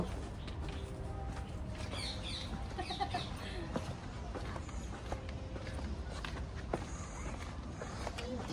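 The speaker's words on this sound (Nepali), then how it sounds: "चराको आवाज छ" Faint bird calls rise now and then over a quiet rustling background with soft footsteps, at the Dubai Miracle Garden flower garden.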